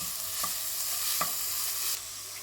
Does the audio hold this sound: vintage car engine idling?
no